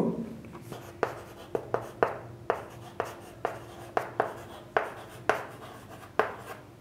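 Someone writes out a geometry proof by hand, with a steady series of sharp tapping strokes roughly every half second and soft scratching between them, close and clear.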